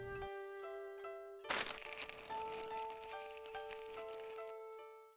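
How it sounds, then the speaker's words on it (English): Virtual spheres in a HoloLens spatial sound app, with a sharp impact burst followed by soft rolling rumble, set against sustained synthetic tones that play throughout. "You'll now hear impact sounds and rolling sounds as the spheres move around."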